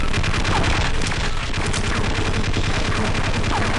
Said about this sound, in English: He's shooting at me still!